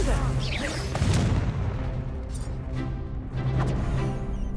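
Confringo explosive spell blasts go off in Hogwarts Legacy combat, several booming impacts in quick succession over a dense rumbling battle din.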